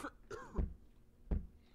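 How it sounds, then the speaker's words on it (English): Two sharp coughs about three-quarters of a second apart, close and fairly loud, each a short burst with a throaty edge and a brief lead-in, inside a quiet room of a library at night. "Who's coughing?"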